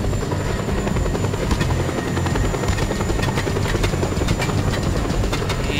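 Loud, continuous video game helicopter rotor and engine drone, steady throughout with faint crackles of distant gunfire, no voices.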